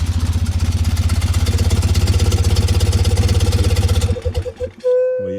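A BMW R90S motorcycle engine putters at a fast, steady idle after starting, then sputters and dies near the end, leaving a brief electronic tone.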